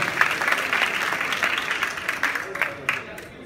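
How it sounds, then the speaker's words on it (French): An awards-ceremony audience gives applause to a comedian named Ramatoulaye at the African Talents Awards, with bright clapping and crowd voices mixed in that gradually thins and fades out. "tonnerre d'applaudissements pour Ramatoulaye"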